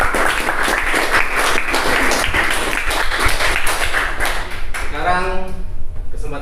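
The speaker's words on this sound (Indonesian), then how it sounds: "Kita kasih aplaus dulu untuk kelompok 2." Classroom applause for group 2's presentation: steady, dense clapping from a group of students fills several seconds, then breaks off as a voice begins speaking near the end.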